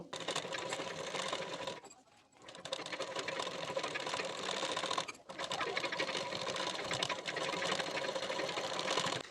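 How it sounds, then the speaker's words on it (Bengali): Sewing machine running steadily as it stitches the folded neck strip of a baby frock, loud and continuous with two brief pauses in the motor. "এখানে মেশিনে সেলাই দিয়ে নেব"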